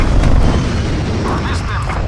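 Heavy boom of an airstrike in Call of Duty Black Ops Cold War Zombies, a broad rumbling explosion that swells early and then settles into a sustained low roar with game noise on top.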